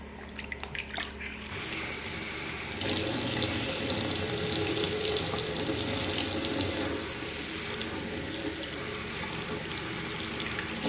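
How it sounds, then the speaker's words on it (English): Steady running water from a sink faucet, a continuous splashing rush that swells louder for a few seconds in the middle before easing back. "I'll also do more rinsing at the sink where there is running water"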